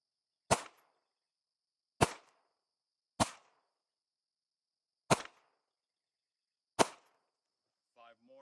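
Five sharp handgun shots at a shooting range, spaced irregularly about one to two seconds apart, loud and close with short decays, followed by a faint brief voice at the end.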